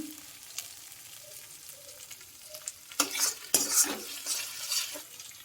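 Spices frying in a pan over low gas while being stirred, faint gentle sizzle at first, then louder scraping and clinking of a spoon against the pan in bursts.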